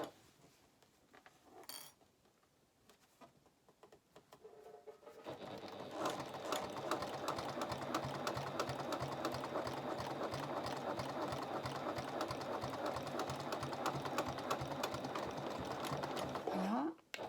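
A sewing machine stitches the seam of a bag, starting after a few seconds of quiet handling and then running as a steady, fast mechanical whir and rattle until it stops at the end.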